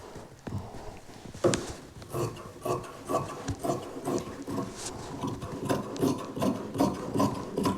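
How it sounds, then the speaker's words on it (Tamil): Scissors roughly cutting fabric for an umbrella frock, heard as a steady series of soft rasping snips close by, repeating rhythmically with a slight rustle of cloth. "இதை நான் அப்படியே கட் பண்ணி எடுக்க போகிறேன்."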